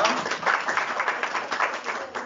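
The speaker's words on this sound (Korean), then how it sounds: "박수 한번 부탁드립니다" Audience at a tech conference talk on Azure AI giving a scattered round of applause, thin and somewhat distant, with uneven pulses of clapping that rise and fall.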